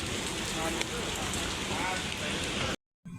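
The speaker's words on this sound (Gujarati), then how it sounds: "બહાર વરસાદ આવે છે ફૂલ આવે જબરદસ્ત વરસાદ ફૂલે ફૂલ" Heavy rain pours outside during a Ganesh festival visit, a dense, loud, continuous roar of drops on surfaces that cuts off abruptly near the end.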